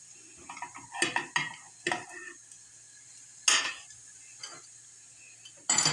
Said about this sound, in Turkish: Şöyle çevire çevire nar gibi kızar kızarsın ekmeklerimiz.